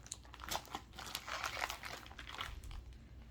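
Dog food is packed into a travel bag for international travel, bringing close, busy crinkling and rustling of plastic packaging in quick irregular bursts with no one talking.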